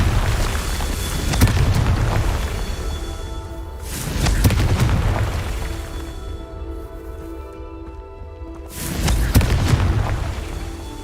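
Confringo explosive spell blasts in Hogwarts Legacy, three heavy booming bursts spaced a few seconds apart, each with a broad rumbling tail over a steady game ambience.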